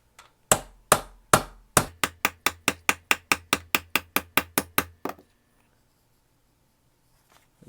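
A heavy pocket knife taps the end of a screwdriver about nineteen times in a sharp, even metallic rhythm. The strikes come close and crisp, speed up after the first few, then stop, leaving near silence.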